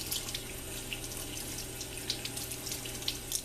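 Steady tap water pours and splashes continuously as a crab is rinsed out under a faucet, close and even with small droplet spatters.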